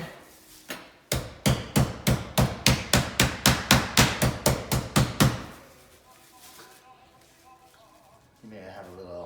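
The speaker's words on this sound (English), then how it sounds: "We're gonna put a little saran wrap on there and really just hammer it out" Meat under saran wrap pounded flat for Easter dinner, about twenty loud, evenly spaced thuds in quick succession, followed by quieter sounds and talk.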